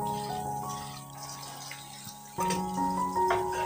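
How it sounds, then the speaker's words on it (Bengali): Water runs and splashes as boiled homemade noodles are drained and rinsed, a soft trickle that grows louder and steadier partway through, heard up close with no talking. "চলো এটাকেও তুলে নেব, মানে জল ঝরিয়ে নেব আর কি, তারপরে ভালো করে ধুয়ে নেব"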